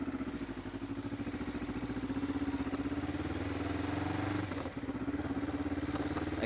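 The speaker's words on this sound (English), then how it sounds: "Exhaust is sounding a little loud." A motorcycle engine idles with a loud, throbbing, rattly exhaust pulse, close by and steady, briefly dipping before resuming its rough beat.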